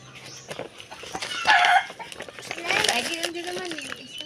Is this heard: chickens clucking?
yes